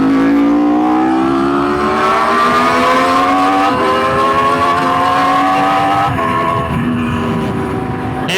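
A BMW HP4 motorcycle racing by at a bike night, its engine roaring loud and close, pitch climbing steadily through revs with a couple of shifts before easing slightly at the end.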